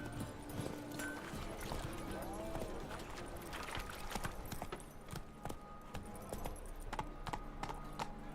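Hoofbeats of a horse trotting in The Witcher 3 video game, a steady clip-clop rhythm running throughout over game music and ambient sound, with a voice speaking over it.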